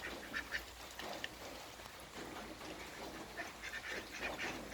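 A brown duck quacks faintly in a few short, scattered calls against a soft outdoor background, with no talk.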